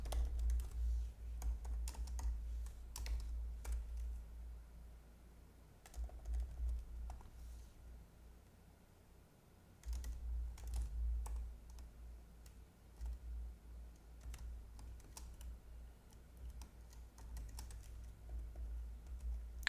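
Keys clatter steadily on a computer keyboard during a late-night coding session, a continuous run of quick, soft clicks with brief pauses and low room rumble beneath, no one speaking.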